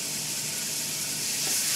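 Plantain pieces drop into very hot oil turned down a little, giving a steady, loud, close hiss of deep-frying that holds evenly throughout.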